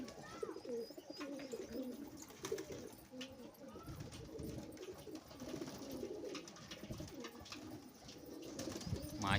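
Pigeons cooing while bathing at a rooftop loft, soft repeated coos layered over a busy wash of splashing, fluttering and outdoor noise, fairly close and continuous.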